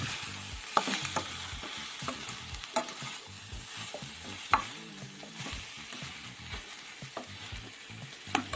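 A spoon scrapes and stirs potatoes through a thick beef stew mixture in a pan, irregular clacks over a soft background sizzle, close up with no talking.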